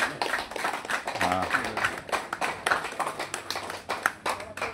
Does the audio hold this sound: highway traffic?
no